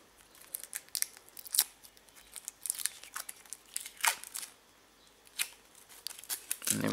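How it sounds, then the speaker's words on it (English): Blue protective film is peeled off a metal model aircraft stand, heard close up as a run of irregular crinkling, tearing rips and plastic crackles that come in bursts with short quiet gaps between them. "You've got the blue film, which I'm just going to peel off now."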